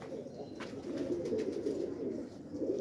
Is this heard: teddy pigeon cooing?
yes